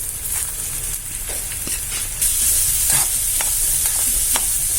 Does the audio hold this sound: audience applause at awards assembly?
no